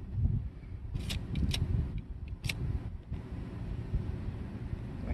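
Wind blowing outdoors buffets the microphone in a continuous low, gusty rumble, with a few brief sharp clicks rising above it; no one speaks.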